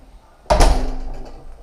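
A second-floor apartment entrance door in a flat in El Raval opens with a sudden loud clunk of the latch, followed by a short resonant thud and rattle fading away.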